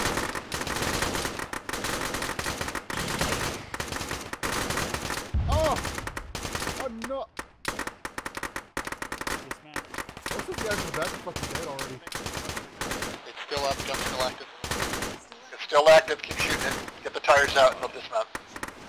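Sustained machine gun bursts in a ShackTac military video game, fired at a BMP armored vehicle, with rapid loud volleys and short pauses throughout, and voices talking in between.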